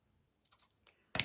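Scissors trim a small piece for a hanging lamb wood-kit Easter decoration, giving a few quiet close snips followed by one louder, crisp cut.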